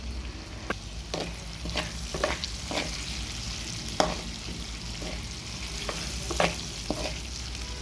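Sliced bitter gourd fries in a pan and is stirred now and then, a continuous moderate sizzle broken by sharp scrapes and clacks of the spoon against the pan, with no voices.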